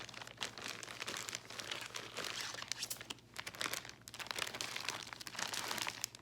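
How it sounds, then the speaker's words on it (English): Plastic packaging crinkles and crackles continuously while being handled in a shop in Sisters, Oregon, a dense, close rustling with a steady low hum underneath. "Sorry, lots of crinkling here."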